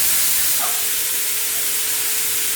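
Chopped tomatoes hitting hot oil with panch phoron, a loud, dense, steady sizzle and hiss that stays strong throughout with no voices.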